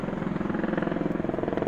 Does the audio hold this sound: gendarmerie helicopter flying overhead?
yes